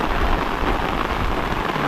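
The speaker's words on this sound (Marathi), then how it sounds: "जोराचा पाऊस आलेला आहे" Heavy monsoon rain pours down steadily by a river in a dense, constant roar, close by and loud, with no voices.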